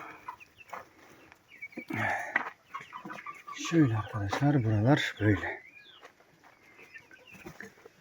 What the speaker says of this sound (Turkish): Meraklı tavuklar sizi. Meraklı tavuklar. Horoz.